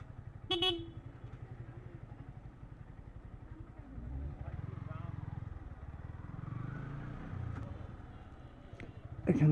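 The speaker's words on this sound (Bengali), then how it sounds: "এখন বাইকটা গ্যারেজে রাখবো যেহেতু, তো গ্যারেজের দিকে ঢুকে যাই।" A motorcycle rides into a university campus garage on arrival, its engine running steadily up close with a brief horn toot near the start and another burst at the end, and no talk over it.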